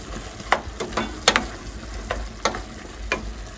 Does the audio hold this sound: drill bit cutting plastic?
no